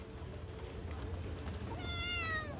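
A white cat lets out a clear, rising-and-falling meow near the end, over a low background hum.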